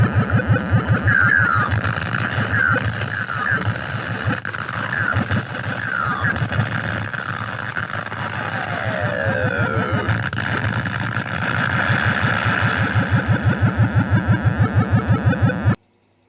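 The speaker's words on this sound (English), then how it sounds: "the Scramble game is also very loud and distorted." Scramble arcade game sound from a faulty 60-in-1 PCB, badly overdriven and distorted, with a steady pulsing engine drone and swooping laser-like tones, ending abruptly.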